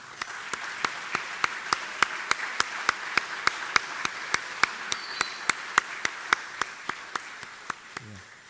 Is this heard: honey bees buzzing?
no